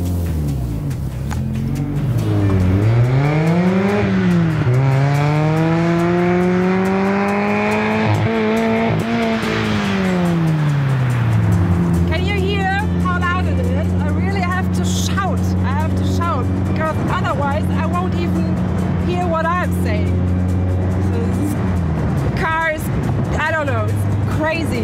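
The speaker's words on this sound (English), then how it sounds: "I get into this car and start driving." A Mazda MX-5 Yusho Concept engine pulls hard and close, its pitch climbing and falling through several gear changes, then holding a steady drone with a voice talking over it.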